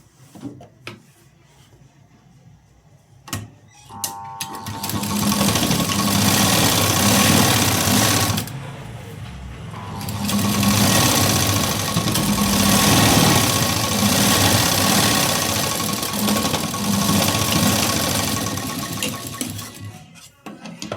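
A sewing machine stitches a blouse seam: a few soft handling clicks, then a loud sustained motor run, a brief pause, and a second long stretch of rapid steady stitching.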